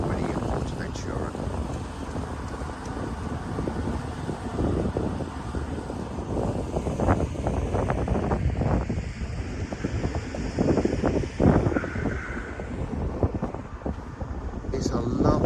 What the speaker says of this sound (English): Unfortunately the wind is still blowing.